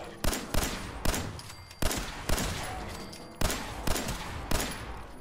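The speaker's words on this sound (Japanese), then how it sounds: "爆発の10ミリピストル。" An explosive 10mm pistol fires in Fallout 4, with a run of loud shots in quick succession, each a sharp blast followed by a short burst of explosion noise.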